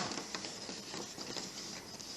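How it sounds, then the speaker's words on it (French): An inkjet printer prints on transfer paper, a quiet, rhythmic run of clicks and whirring passes that repeat evenly throughout, with no voices. "on a besoin d'une imprimante, normale, imprimante à jet d'encre"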